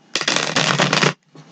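A deck of tarot cards is riffle-shuffled in one quick, close, crisp burst of flapping, followed by a short softer rustle.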